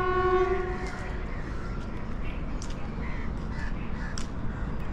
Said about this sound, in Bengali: ওই সাইডে একটা ট্রেন আসছে,